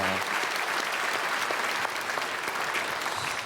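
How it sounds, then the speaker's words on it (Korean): A church congregation gives warm applause to welcome newcomers at a Sunday worship service, a dense, sustained crowd clapping that fills the room at an even level throughout. "우리 크게 박수로 환영하겠습니다."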